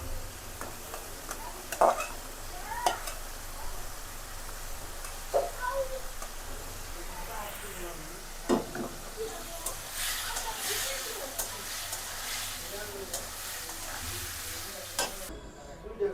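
Cauliflower fries in a pan with a faint, steady sizzle and occasional stirring clicks, while a voice talks over it.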